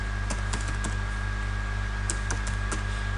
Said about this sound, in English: Type in the URL.